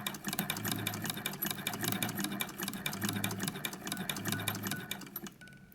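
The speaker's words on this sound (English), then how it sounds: "Now I'm going to change it to the star setting, and I'm just going to do some straight stitching." A sewing machine fitted with a ruffler attachment runs steadily doing straight stitching, a fast continuous needle chatter with a rhythmic low pulse, close and loud, stopping right at the end.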